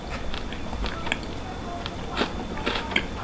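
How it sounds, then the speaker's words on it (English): Crisp crunching bites of lechon kawali, fried pork belly, close to the mic, a few sharp cracks amid steady chewing, with soft background noise throughout. "Hear the crunch?"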